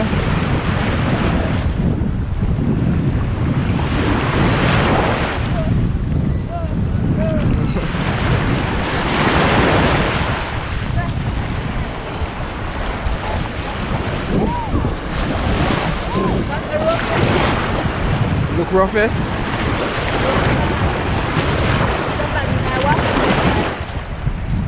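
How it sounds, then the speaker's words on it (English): Surf breaks again and again on a Cayman Islands beach while gusty wind buffets the microphone in waves, and a voice speaks briefly beneath the roar. "This is the Cayman beach, boy."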